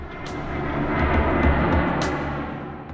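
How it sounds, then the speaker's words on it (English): A C-17 transport jet roars steadily with its rear doors open, deep engine rumble and rushing wind filling the cabin, swelling slightly toward the middle with a few sharp gusty bursts on top. "a roaring blast of wind and the deafening engine noise flooded the cabin"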